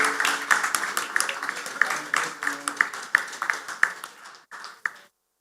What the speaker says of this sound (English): Can we have a good round of applause